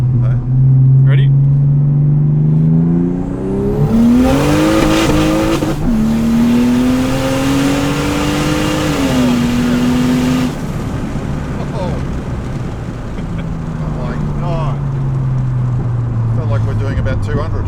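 A turbocharged car engine revs hard and climbs through gears while driving, the pitch rising in long surges and then settling into a steady drone, loud and close-up, with people talking over it.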